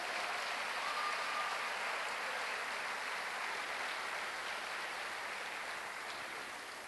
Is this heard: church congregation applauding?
yes